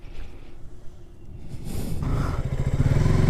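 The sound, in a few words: KTM RC 200 motorcycle engine revving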